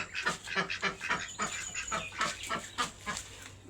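Live ducks kept for sale at an outdoor market in Seychelles quack and honk repeatedly at close range. The calls come in a dense, overlapping run of nasal bursts from several birds, heard with no voices.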